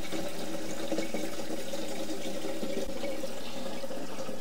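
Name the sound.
water running from a tap into an Aqua Roll water container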